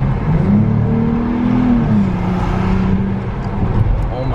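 A car engine revs and pulls hard while accelerating, a loud, close, steady growl whose pitch rises and then settles as the car gathers speed, heard without talking.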